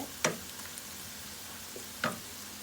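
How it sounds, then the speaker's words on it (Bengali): Onion browning in a pan while being stirred, a low steady sizzle broken by two sharp spatula knocks against the pan. "পেঁয়াজটা একটু নেড়ে দিই।"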